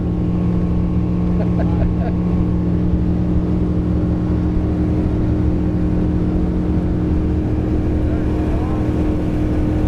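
Steady droning motorboat engine running continuously at close range, a constant hum with no pauses.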